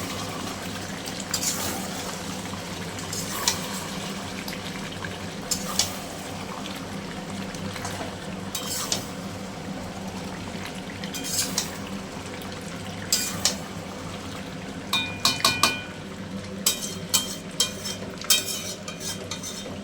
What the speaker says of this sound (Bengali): মাটন, এই যে রান্না হচ্ছে, কষা হচ্ছে, এখনও কষেনি, কষা হচ্ছে